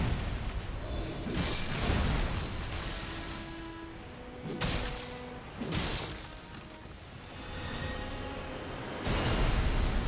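Booming blasts and whooshing bursts in Elden Ring: Shadow of the Erdtree, several loud explosive impacts spaced across the stretch with ringing tonal effects between them.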